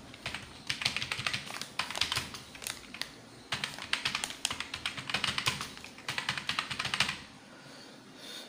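Fingers tap steadily on a computer keyboard in quick, clustered bursts with short pauses, close and clear, with no talking.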